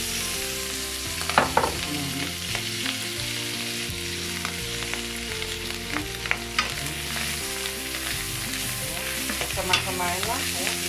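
Bacon fries in a pan with garlic and onion for a creamy carbonara, a continuous loud sizzle with repeated scraping stirs, over faint background music.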